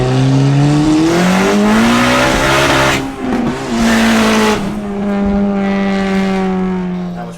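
A boosted, dyno-tuned Honda Civic Si widebody making about 400 horsepower on roughly 10 psi accelerates hard, its engine note climbing through rising revs with a gear change, loud and close throughout.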